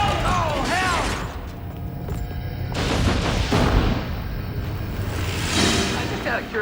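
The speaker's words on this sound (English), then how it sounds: "Flashbang!" A flashbang grenade goes off in a TV action drama, a loud dense blast and rumble with whooshing debris mixed under shouting voices and music.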